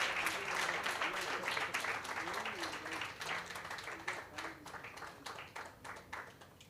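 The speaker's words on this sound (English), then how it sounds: "let us have a round of applause for Mr." An audience at a career guidance program gives a round of applause during a felicitation, a steady wash of many hands clapping that fades slightly toward the end.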